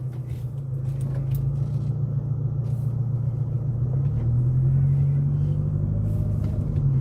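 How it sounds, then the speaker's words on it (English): A 2002 Toyota Camry LE with a muffler delete exhaust drives along in hot weather with the windows up, its engine a steady, low, close-up drone that swells slightly partway through. "I have a muffler delete on the back."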